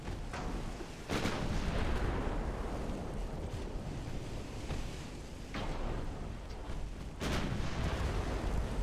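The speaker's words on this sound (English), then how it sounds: "I really would have thought we'd be doing more damage with these 11-inch guns." 11-inch naval guns fire in the warship game Ultimate Admiral Dreadnoughts, with several heavy booming salvos spaced seconds apart over a continuous rushing sea-and-wind roar.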